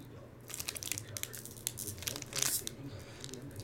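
Foil wrapper of a 2019 Donruss Optic or Allen & Ginter baseball card pack ripped open in a couple of crinkly tearing bursts, close and fairly quiet, with a louder rip near the end.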